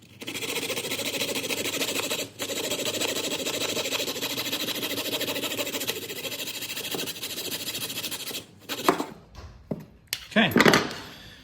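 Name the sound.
coping saw cutting trim on 1995 Ford F150 window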